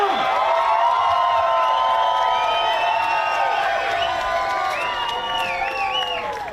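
A large crowd at a Trans Am TA2 race at the Music City Grand Prix cheers, whoops and shouts continuously for race driver Scott Borchard. The loud, dense roar holds steady, then eases slightly toward the end.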